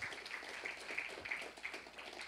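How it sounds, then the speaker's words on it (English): Church congregation applauding during a sermon, a faint, distant scatter of clapping heard throughout. "let's give him a round of applause."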